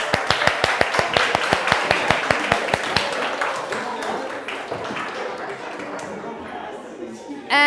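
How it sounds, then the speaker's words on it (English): A group of people clapping after an exercise in a presentation workshop, a quick steady burst of many hands that fades into mixed crowd chatter and room noise. "Give your group a clap."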